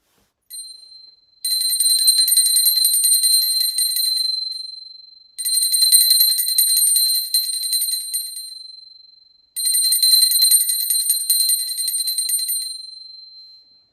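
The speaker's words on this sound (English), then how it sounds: "Now I ring a bell to offer the element of sound." A bell rings in three sustained bursts of rapid trilling, each lasting a few seconds and fading before the next, bright and close.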